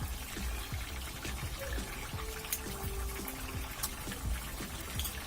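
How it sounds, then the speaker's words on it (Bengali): Fried fish pieces go into a simmering green papaya curry with soft wet plops and bubbling, a run of close, quiet splashes over a steady background. "এখন ভাজি করে রাখা এই মাছগুলো আমি এর ভিতরে দিয়ে দিলাম।"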